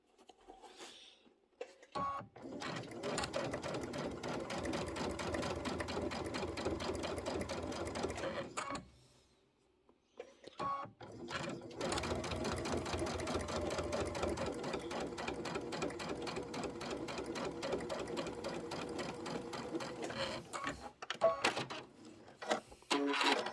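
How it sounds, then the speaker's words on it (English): An embroidery sewing machine stitches a tiled snowman scene in two long runs of rapid, steady mechanical stitching, with a short pause between them and a few clicks near the end. "I'm just sewing just to the left of the red line."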